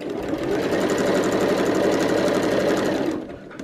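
A sewing machine stitches a quarter-inch seam on fabric for a Christmas tree skirt, a steady, fast mechanical whirring and rattling, close and loud, that slows and stops near the end.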